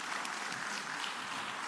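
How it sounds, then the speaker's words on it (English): Applause rises from an audience at a live business school network week event, a dense steady patter of clapping filling the short stretch without voices over it. "A round of applause, please."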